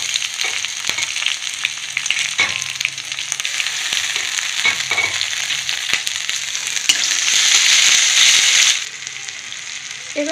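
Grated ginger hits hot oil in a pan with whole cumin, bay leaf and green chili, giving a steady crackling sizzle with scattered pops and stirring clinks, swelling louder briefly near the end before easing off.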